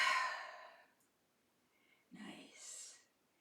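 A long, audible exhale during yoga practice fades to quiet, then a soft sighing breath follows, close and faint.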